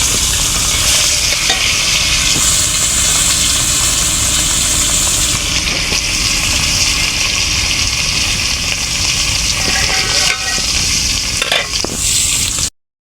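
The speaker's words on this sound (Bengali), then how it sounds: "মাছের ডিম করলাম ছেড়ে" Fish roe sizzles loudly in hot oil in a home kitchen, a continuous close crackling fry with occasional scraping as it is stirred, alone with no voices.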